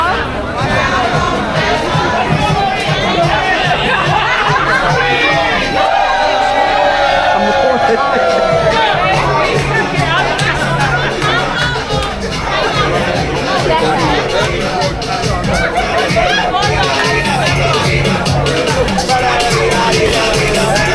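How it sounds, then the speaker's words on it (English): A large outdoor crowd on the Street of Umbrellas in Amber Cove, a dense, steady babble of many voices with occasional shouts and whoops, loud and close throughout. "The crowd here is massive. There's so many people right here"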